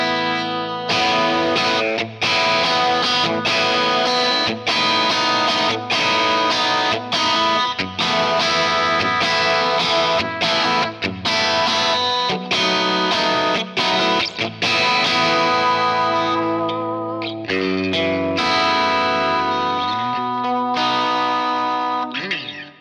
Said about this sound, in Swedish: så här har jag satt ihop en matchless amp. Just nu så är det bara amp, cab, EQ och ett reverb på.